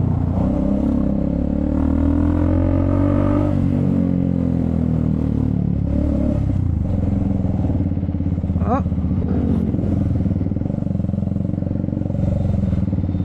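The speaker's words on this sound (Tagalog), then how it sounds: "Grabe yung traffic to, ang haba eh oh." Heavy road traffic from the saddle of a Triumph Speed 400 motorcycle: a steady blend of nearby engine drones and revving, with a brief rising whine midway, loud and continuous under occasional talk.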